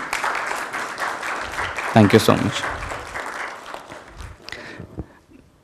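An audience at a business seminar applauds with a moderate wash of clapping that fades over several seconds, while someone speaks briefly over it partway through.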